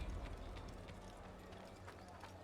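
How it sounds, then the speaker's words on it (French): Horses trotting in Assassin's Creed, a steady run of hoof clip-clops with some game ambience and faint speech-like sound in the background. "Ok on arrive aux chevaux."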